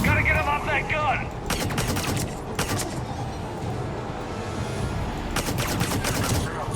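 Gunfire in the video game Mass Effect 3: several bursts of rapid automatic shots in clusters, over a steady background of battle ambience, with a brief voice near the start.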